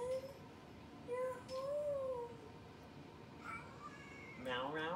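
Faint cat meows, a few short rising and falling cries spread through the stretch over a low background hum.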